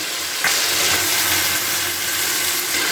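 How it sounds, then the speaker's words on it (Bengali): Boiled dal poured into a hot pan for egg tadka sets off a sudden splash and loud sizzle that settles into a steady, close hiss. "এবার সেদ্ধ করে রাখা ডালটাকে আমি ওর মধ্যে দিয়ে দেবো"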